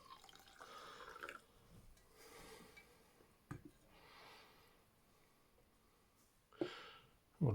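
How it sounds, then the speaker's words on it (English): Hot water from a portable coffee maker is poured into a mug of espresso, faint trickling and splashing in short bursts, close by in a quiet room with light handling clatter. "Here we have some hot water left over."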